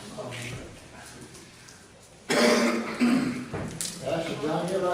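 A man troubled by allergies and a constant drip coughs, with a couple of sharp, loud bursts breaking through quieter throat sounds and background murmur.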